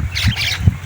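A bird gives two short, harsh squawks close by on a winter morning, the whole burst lasting under a second.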